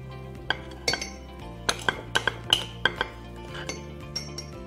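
A spoon clinks against a mug while almond milk and apple mug cake batter are stirred together, giving a dozen or so sharp, irregular taps close by with no talk.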